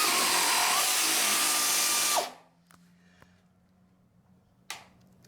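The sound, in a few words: Harbor Freight air nibbler cutting sheet metal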